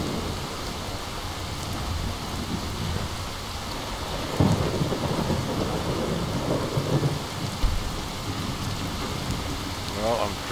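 Steady rainfall in the video game Skyrim, with low rumbling thunder rolling underneath, a heavier crack of thunder midway, constant and enveloping.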